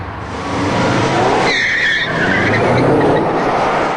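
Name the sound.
Subaru Impreza STI and 22B launching on drag strip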